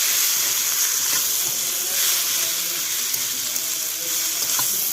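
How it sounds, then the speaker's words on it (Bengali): Ground chili sautés in oil, giving a loud, continuous sizzle and hiss without a break, close up, with faint crackles. "আমি আরও একটু তেল দিয়ে দেবো। দিয়ে ভালো করে আমি কষিয়ে নেব।"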